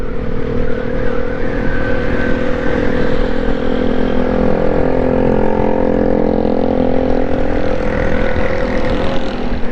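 Motorcycle fitted with a loud aftermarket exhaust on a busy Karachi street, its steady heavy drone loud and close throughout, with no talk over it.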